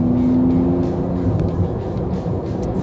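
A Porsche GT2 RS sports car engine roars close by, with a short steady tone at the start, then a rough, crackling low rumble as it pops and burbles on overrun.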